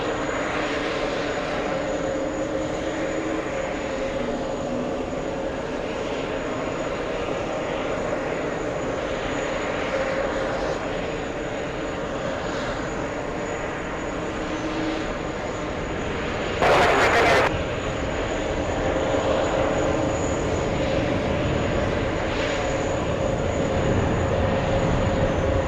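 A Delta Airbus A330neo jet rolls down a JFK runway for takeoff, a steady broad engine roar with a high whine that holds strong throughout, a brief loud burst partway through.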